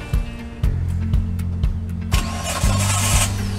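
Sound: car engine cranking and starting with a portable jump starter

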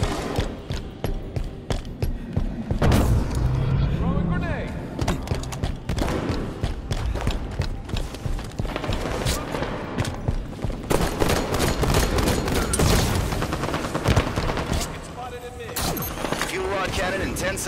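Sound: gunfire in a video game

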